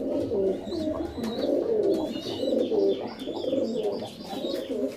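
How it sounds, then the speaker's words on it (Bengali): Pigeons in a loft coo close by, with soft overlapping throaty calls repeating steadily and a few faint chirps above, no talking. "এই দেখুন পায়রা দেখুন কেমন।"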